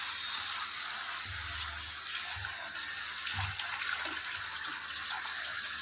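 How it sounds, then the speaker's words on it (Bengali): Water poured into cooked spice masala in a cooking pot for a Bengali curry, a steady pouring wash with a few low splashy surges near the middle, fairly close, no talking. "একটু বেশি করে জল দিয়ে দেবো"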